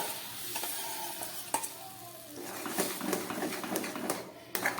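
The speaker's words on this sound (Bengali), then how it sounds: "এবার এখানে যে নারকেল চিনি দিয়ে তালটা গুলে রেখেছি, সেই তালটাকে আমি কড়ার মধ্যে দিয়ে দিলাম।" Palm fruit pulp mixed with coconut sugar goes into a hot wok and gets stirred, giving a soft sizzle with scraping spoon strokes and a few sharp clinks, close and moderately loud.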